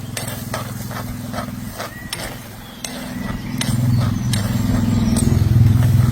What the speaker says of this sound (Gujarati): હવે આપણે એમાં નાખી દઈશું લીલા વટાણા. થોડીક વાર આપણે આને હલાવશું.